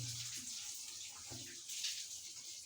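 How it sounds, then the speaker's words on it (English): Hot water pours into a bowl of dried fish and stockfish, giving a steady, close watery rush that runs continuously and fairly loud throughout. "Also add hot water to this too."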